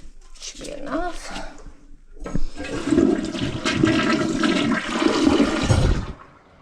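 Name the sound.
toilet flushing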